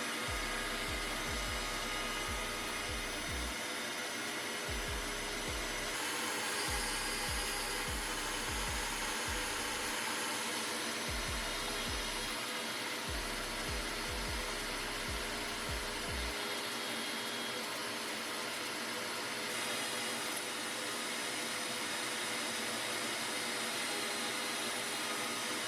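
A CNC machine cuts carbon plates with dust collection running: a loud, constant whining drone with repeated low chugging pulses from the cutting passes for most of the run, then a steady hum alone.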